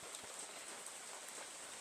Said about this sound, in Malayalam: മഴ പെയ്യാൻ തുടങ്ങി ഇപ്പം മഴ ലേശം കുറഞ്ഞു